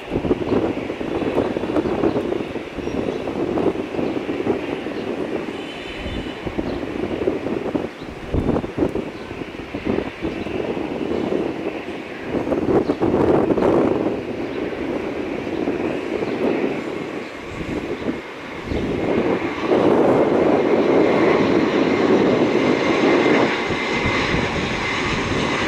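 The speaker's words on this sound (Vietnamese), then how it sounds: "Và chiếc máy bay này đang hạ cánh trong điều kiện thời tiết gió giật rất là mạnh." A white Aeroflot cargo airliner, converted from a passenger jet, lands at Tan Son Nhat in strong gusty wind, giving a loud, sustained engine roar with buffeting wind noise rising and falling throughout.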